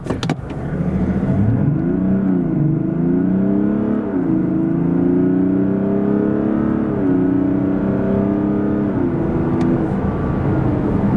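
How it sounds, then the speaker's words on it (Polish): A Mazda CX-60 2023 3.3 diesel SUV engine revs up steadily from 0 to 100 km/h, pitch climbing through several gear changes as it accelerates hard, loud and close with no talking. "Tak samochód przyspiesza od 0 do setki."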